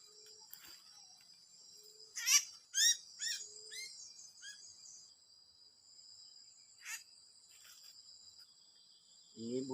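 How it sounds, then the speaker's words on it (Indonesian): Merbah pit bulbul calling in a quiet outdoor setting, a few short bright chirping bursts clustered together, then an isolated call later, over a faint steady insect drone. "Ini burung merbah pit"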